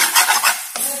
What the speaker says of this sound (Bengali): আমি 5 থেকে 7 মিনিট নাড়াচাড়া করব।